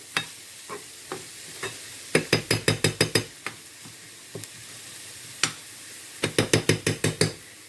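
Onion frying with spices, coriander and garlic over a soft background sizzle, broken by bursts of quick sharp metallic clinks from a utensil against the pan, close with no talk.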